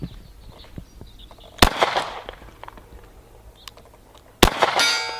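Two sharp shots from a Taurus G4 pistol ring out a few seconds apart, each followed by a metallic clang from the struck target, with quiet outdoor background between them.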